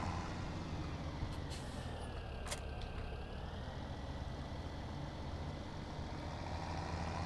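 Tractor engine in Farm Simulator 17 drones on steadily at a constant level, a low heavy-vehicle rumble with a brief hiss like an air brake midway, no talk.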